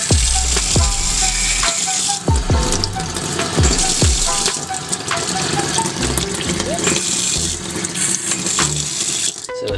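Water runs from a kitchen faucet fitted with a Venturi injector, a loud rushing flow broken by a few sharp clinks and gurgling splashes near the start and again toward the middle.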